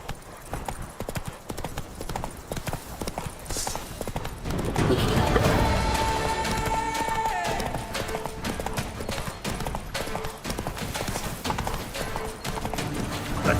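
Roach, a horse in The Witcher 3, galloping: fast, steady clip-clop hoofbeats run throughout, close and prominent, with a brief swell of extra noise midway and a voice partly audible underneath.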